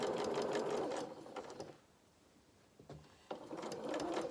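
A sewing machine runs steadily stitching quarter-inch seams on fabric pieces for a plush Highlander doll's body and limbs, pausing briefly in the middle before the close, loud whirring resumes.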